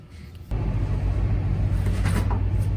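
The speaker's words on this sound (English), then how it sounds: "Don't mind the mowing noise." A lawn mower cutting the grounds outside sets up a steady, low engine drone that kicks in abruptly after half a second and runs on continuously in the background, heard from inside a garage workspace.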